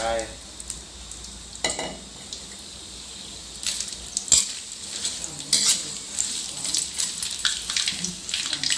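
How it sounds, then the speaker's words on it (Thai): Dried crispy fish goes into boiling oil and fries with a steady sizzle, close and fairly loud. Clinks of a utensil and stirring noises sound over the frying. "น้ำมันเดือดด้วยครับเนี่ยใส่ลงไป"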